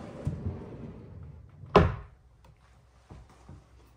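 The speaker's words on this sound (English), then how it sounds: "And then here we have another big drawer for storage." A big storage drawer in a 37-foot tiny house shuts with a single solid thunk, after a soft slide and with faint knocks afterward, recorded close in a quiet room.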